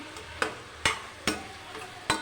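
Onion, green chili and mint frying in a pan, with a soft steady sizzle broken by about five sharp stirring scrapes spaced roughly half a second apart, close and moderately quiet.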